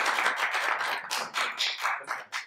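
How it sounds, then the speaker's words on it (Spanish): An audience at a fantasy convention talk claps in a steady, moderately loud patter of many hands, with individual claps picking out toward the end. "El público puede aplaudir si quieres"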